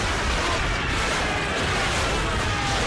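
Artillery shelling in a Stalingrad war video game on PlayStation 2: a dense, continuous roar of blasts and rumbling explosions filling the whole clip, loud and unbroken with no distinct pauses.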